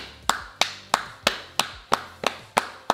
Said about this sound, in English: that's the drag queen clap because the nails clink, clink, clink, clink, clink